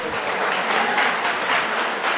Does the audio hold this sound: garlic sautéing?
no